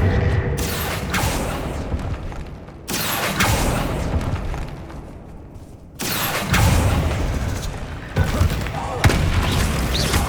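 Spell blasts from the Bombarda charm in the video game Hogwarts Legacy, loud booming explosions arriving in three or four heavy bursts with rumbling tails, set against a continuous game soundscape.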